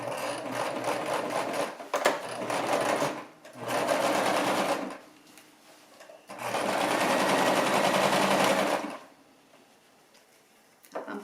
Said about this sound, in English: we're going to start sewing these up